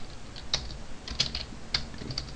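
Someone types on a computer keyboard while coding in Python, a few light, scattered keystrokes tapping close by at an uneven pace with no talking.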